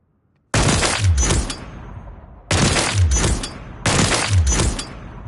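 Three heavy Longbow sniper rifle shots from Call of Duty MW3, each a loud close crack followed by a bolt-action cycling clatter and a fading tail, spaced about two seconds apart with no talking.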